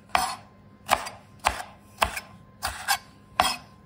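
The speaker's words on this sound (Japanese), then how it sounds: "はい、ピーマンもみじん切りにします。" Green bell pepper being finely chopped with a knife on a cutting board, six crisp, evenly spaced thuds in a steady rhythm, one of them doubled, close and clear.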